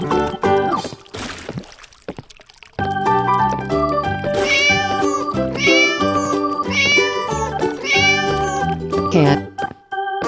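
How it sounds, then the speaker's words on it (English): A cartoon cat meows repeatedly in loud, close, rising cries set over a bouncy musical backing, with a short noisy swish near the start. "Cat."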